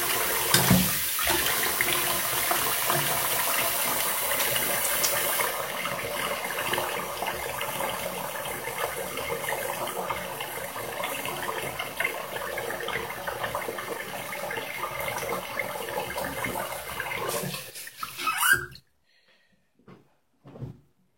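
Water running from a tap into a sink while someone rinses off, a steady close splashing flow with some clunks, then cutting off near the end, followed by silence and a few faint knocks.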